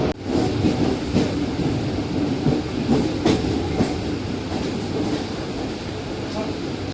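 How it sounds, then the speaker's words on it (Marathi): A Mumbai local train rumbles along the tracks after rain, with steady low-pitched noise and faint rhythmic clatter, continuous throughout at moderate loudness. "गाईस ट्रेन सुटलेली आहे."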